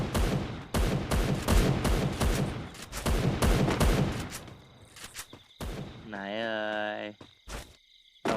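Gunfire in the mobile shooter game Free Fire, rapid bursts of repeated shots in a dense rhythmic volley, loud and close, followed by a few scattered single shots and a sustained synthetic tone.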